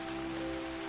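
Rain falls in the video game Yonder: The Cloud Catcher Chronicles, a soft steady patter over a low sustained musical drone, brief and fairly quiet.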